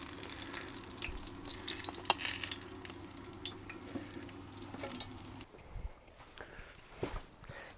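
Fry bread sizzling and crackling in a pan over a wall-tent stove, a steady close frying hiss with a few clinks, then the sizzle drops off near the end.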